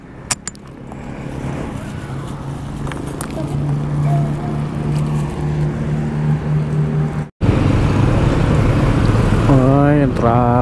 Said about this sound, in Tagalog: Ay, ang traffic dito sa Morong.